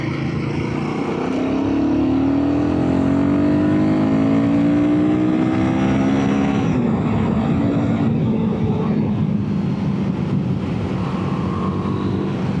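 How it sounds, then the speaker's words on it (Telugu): A 2025 Royal Enfield Guerrilla 450 motorcycle under way, its engine note rising steadily through the gears, then dropping and climbing again beneath loud, constant wind rush from riding. "బైక్ అయితే చాలా ఈజీగా పుల్ చేస్తుంది"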